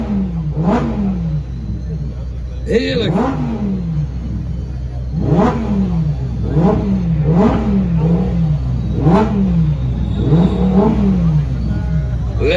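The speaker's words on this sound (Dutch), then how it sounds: "Wat vinden wij van Lamborghinis die herrie maken?" A Lamborghini Performante at a car show in the Netherlands revs again and again, giving a loud, near series of sharp rising and falling engine blips over a low idle. A voice exclaims briefly among the revs.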